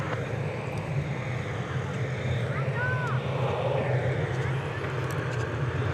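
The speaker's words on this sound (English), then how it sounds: "There goes the flight to Cancun." Airliner taking off from DFW Airport, a steady loud engine roar with broad rumbling low end carrying through, while a voice talks over it.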